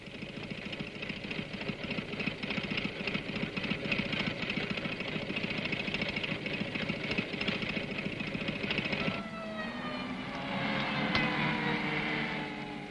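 A Land Rover engine drives a tailboard-mounted 200-ampere welding plant, running as a steady close mechanical drone that drops in load partway through and then hums on with a changing pitch.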